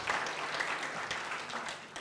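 Church congregation at an online worship service giving lively applause, a steady wash of many hands clapping together for about two seconds with no voices over it.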